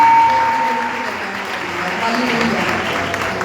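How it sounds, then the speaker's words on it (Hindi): Congregation clapping during a live gospel worship service, a steady wash of applause mixed with some voices. "अरे खुदा के लिए तालियां बजाते हैं।"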